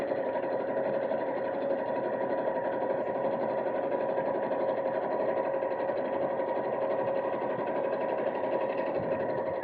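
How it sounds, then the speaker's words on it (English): A domestic sewing machine runs steadily with a lengthened stitch, topstitching about 1/8 inch from the top edge of a fabric purse organiser bag, a close, even motor whir and needle patter with no pauses. "So I can lengthen the stitch because this isn't a seam, and sew about 1/8 inch or 3 millimeters from the top."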